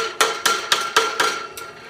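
Plastic pieces on an AV 96 tower are struck with a hammer: six sharp, evenly spaced knocks about a quarter second apart, close and clear.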